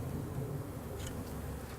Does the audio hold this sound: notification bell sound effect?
no